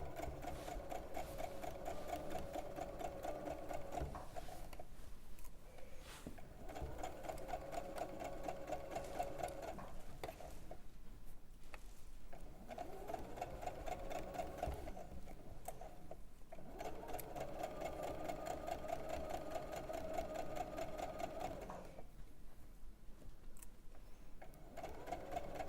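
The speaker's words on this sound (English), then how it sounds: "So we're just sewing up now from the bottom of the sleeve." A sewing machine stitches up a sleeve from the bottom hem in repeated runs, its fast mechanical whir pausing briefly between bursts and holding close and steady throughout.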